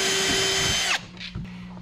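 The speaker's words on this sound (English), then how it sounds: "So I'm gonna drill these holes, mount these, and we'll get to wiring these things up." A power drill bores holes into a snowmobile cargo box, a steady high whine for about a second that winds down abruptly, followed by faint handling clatter.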